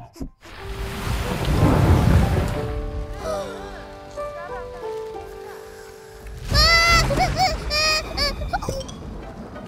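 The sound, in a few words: thunderstorm with rain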